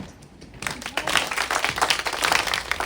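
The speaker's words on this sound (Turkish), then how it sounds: "Alkışlarken" A crowd applauds dancers at a performance in the Hopa Museum, a dense wash of clapping that starts suddenly and carries on steadily at close range.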